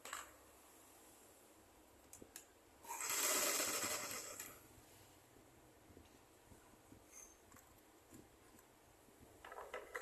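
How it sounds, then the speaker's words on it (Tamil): A sewing machine stitches a neckline in one steady burst of about one and a half seconds, whirring close and loud, with faint taps and handling noises before and after in a quiet room. "இப்போ பாருங்கள், தைக்க போகிறோம்."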